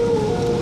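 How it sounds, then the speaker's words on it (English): Wild dogs howl in The Witcher 3, a sustained, steady tonal howl that is loud and close, heard alone without talk. "Wild dogs. Yes. More dangerous than wolves."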